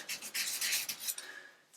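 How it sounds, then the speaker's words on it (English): Light hand sanding of a chipped bathtub repair with 400 grit sandpaper, quick soft rasping strokes in a short close burst, no speech. "You don't need to push super hard, just need to let the sandpaper do the work."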